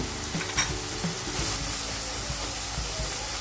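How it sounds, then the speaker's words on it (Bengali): Spices for fish dopiaza sizzle and fry in a pan, a steady crackling hiss with a few soft scrapes of stirring, close and moderately loud, and no voices. "ভালো করে কষাই নিচ্ছি।"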